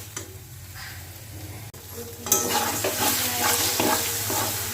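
Banana flower curry is stirred in a pan, with faint scraping at first and then a louder sizzle that swells partway through, alongside repeated scrapes and light knocks of the spoon, close by with no talk.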